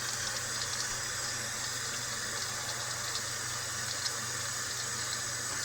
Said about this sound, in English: we're gonna fill this up with some cold water